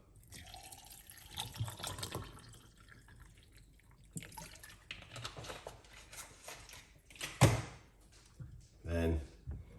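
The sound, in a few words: water running from a tap for alkaline onion water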